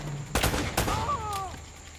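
Gunfire in Uncharted: Drake's Fortune cracks out as two sharp shots with a fainter third, over steady game ambience and a brief tonal sweep between them.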